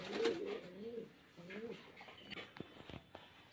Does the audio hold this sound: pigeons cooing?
yes